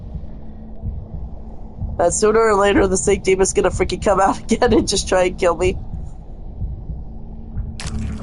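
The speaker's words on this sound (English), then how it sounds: "Especially like that strong, like, heartbeat sound" A strong, low, throbbing heartbeat from Bendy pulses steadily throughout, with someone talking over its middle stretch.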